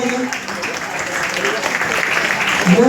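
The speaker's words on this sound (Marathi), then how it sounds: "चला जोरदार टाळ्या झाल्या पाहिजे." Audience clapping steadily at a village student felicitation ceremony, a dense continuous patter of hands held at even loudness throughout, with a few voices mixed in beneath.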